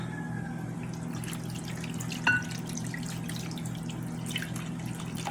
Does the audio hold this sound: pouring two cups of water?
yes